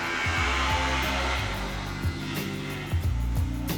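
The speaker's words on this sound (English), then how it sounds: "Now he's grinding it down." Power tool grinding down a new swim platform on a 30-year-old pocket cruiser boat, a steady buzzing whine with pulsing, stuttering pitch as the tool bites, close and continuous with no talk.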